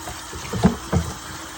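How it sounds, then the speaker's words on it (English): Catfish being rinsed off with water outdoors, heard as two short splashing gushes close by, with quiet between them and no talking. "So what I'm doing is rinsing them off real"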